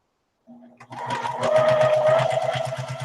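A sewing machine starts up after a moment of silence and runs at a steady rapid stitching rhythm at a 2.5 stitch length while quilting, close and clear.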